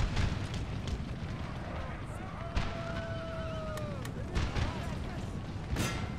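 Artillery booms and gunfire in the video game Ottomans 1798, set in Bedouin desert battles: several sharp, separated blasts and crackles over a low battle rumble, with someone talking throughout.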